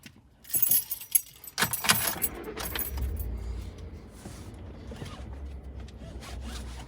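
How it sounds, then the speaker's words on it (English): Keys jangling close up, a burst of metallic clinks and rattles followed by a low car-like rumble as things settle. "Find my keys here"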